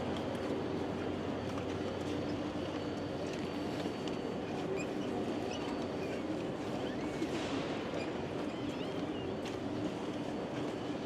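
A high-speed train rumbles steadily as it arrives at a station, a continuous low mechanical roar with a faint brake squeal building near the end, with no voices.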